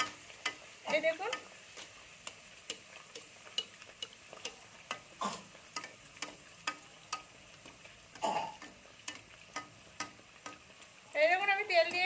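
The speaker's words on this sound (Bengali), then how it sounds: "এটা আমার পুরপুর করে ফুটছে" Dough frying in hot oil, a faint steady sizzle with soft bubbling and regular light ticks of a utensil against the pan, a voice briefly heard at the start and end.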